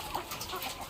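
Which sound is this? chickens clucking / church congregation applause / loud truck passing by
chickens clucking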